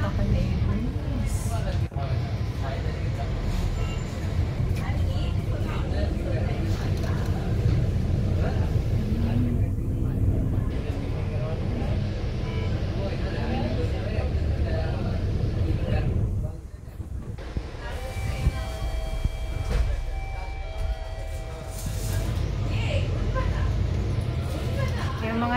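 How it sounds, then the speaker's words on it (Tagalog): A steady low rumble of bus engine and road noise heard from inside a bus moving through Malaysian traffic, continuous and fairly loud, with people talking over it. "Yung mga naririnig nyo, kasama ko yan, nandito sa loob ng bus"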